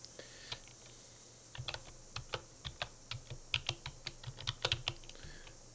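Someone typing a university password and ID on a computer keyboard: sparse, quiet keystrokes at first, then a quick, uneven run of close clicks and taps.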